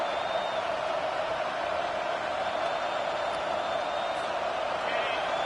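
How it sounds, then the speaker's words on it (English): Stadium crowd noise from a college football video game forms a constant, roaring wash of cheering that stays steady and loud throughout, with no distinct claps or voices standing out. "Listen to this crowd just shaking the girders of this place, trying to help their defense."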